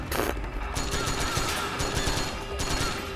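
Anti-tank rifle fire in Metal Gear Solid 4, a few heavy loud shots separated by mechanical clatter and ratcheting, close and dominant.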